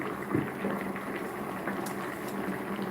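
Seaweed soup with dumplings boiling in a pot, a steady bubbling rumble with soft pops, close and constant, with no talking.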